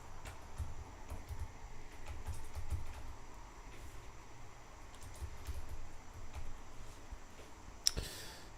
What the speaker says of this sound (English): What is your keyboard doing, man? It's Razer. It's for gamers.